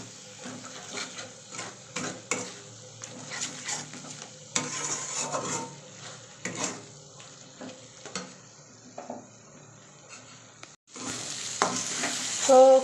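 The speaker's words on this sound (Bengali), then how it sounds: "তো এবার মশলাগুলোকে একসঙ্গে কষিয়ে নেব।" Spices for a chicken curry are stir-fried together in a pan, with a spatula scraping and clattering irregularly over a constant hiss of frying oil that swells louder near the end.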